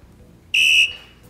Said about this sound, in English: The ref blows his whistle.